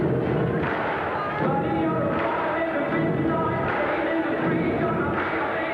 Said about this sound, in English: Now you hear the crowd starting to really react here.